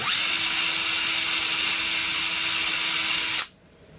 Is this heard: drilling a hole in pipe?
yes